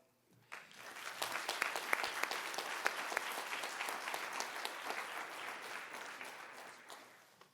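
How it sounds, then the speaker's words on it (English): An audience claps steadily for guest speakers at a cyber conference's closing session, a dense sustained round of applause filling the room from start to finish. "So once again, a round of applause."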